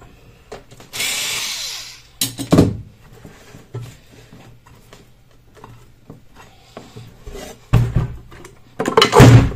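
A power driver runs screws into the battery of a 2021 Super Soco TC 17S electric motorcycle. It gives several short whirring bursts, with clicks and handling clatter between them, close and fairly loud.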